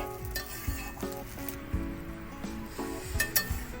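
Chowmein with radish stir-fries in a hot pan, a steady close sizzle broken by repeated scraping stirs and metallic clinks of the spatula at an uneven rhythm, with no voices.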